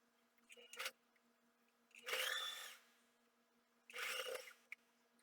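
Close-up bursts from a sewing machine stitching a seam along the fabric edge of an oven door protector: two main whirring runs of about a second each, with quiet handling sounds between them.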